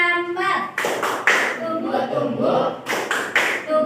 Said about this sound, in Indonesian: Tepuk sambal.